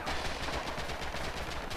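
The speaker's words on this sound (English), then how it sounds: "Already gunfire." Bursts of automatic gunfire and rifle shots crackle continuously through a World War II style competitive shooter match, dense and loud from start to finish with no talk.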